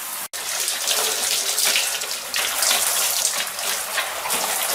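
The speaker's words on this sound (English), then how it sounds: "we're going to wash some clothes and this is how we do it" Clothes are being hand-washed in a hotel sink, a steady close rush of splashing and sloshing water that runs without pause, with no one speaking.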